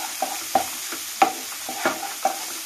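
Rohu fish curry with Kashmiri chilli powder stirred in a pan, a quick rhythm of spoon scrapes and taps over a steady low sizzle, close and without talk.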